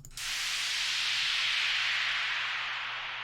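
A bright, airy downlifter noise sweep hisses in abruptly and sustains, slowly dimming and settling downward over a few seconds, alone.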